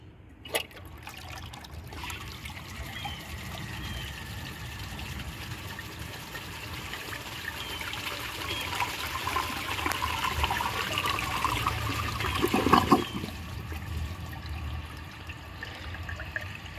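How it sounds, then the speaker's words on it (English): An Eljer Windsor Lowboy toilet without bowl rinse flushes, its jet pushing water so it swirls around the bowl. A sharp click opens a rising, continuous rush of water that swells to a gurgling peak, then drains away and fades. "once this jet pushes it out, it'll probably swirl all around the bowl"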